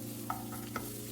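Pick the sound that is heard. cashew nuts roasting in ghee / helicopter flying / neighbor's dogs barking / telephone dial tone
cashew nuts roasting in ghee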